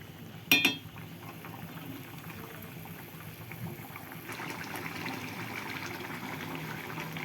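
Water coming to a boil in a pot on a home stove before eggs go in, a steady close bubbling hiss after a sharp clink near the start, with no voices.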